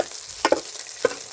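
Green chillies and garlic frying in a pan for a village-style roti chutney, a brief close sizzle with a couple of sharp clinks from a spoon, and no talking.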